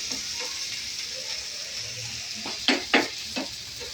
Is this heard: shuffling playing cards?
no